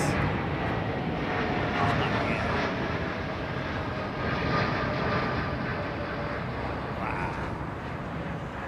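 A Vietnam Airlines jet departing Heathrow gives a continuous, moderately distant engine rumble that fades slightly toward the end. A little background activity sits beneath the noise.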